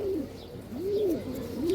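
Female pigeons coo in three rising-and-falling, rolling phrases, close and clear, with no talk over them.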